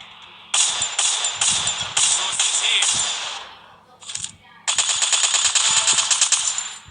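An automatic gun in the video game Free Fire fires rapid bursts of shots, loud and close, with a short pause between volleys.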